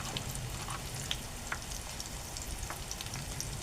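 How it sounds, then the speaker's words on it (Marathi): Onions and turmeric sauté in a pan with a soft, steady sizzle and faint crackles, quiet and continuous with no talk. "आपण आता परतून घेऊ."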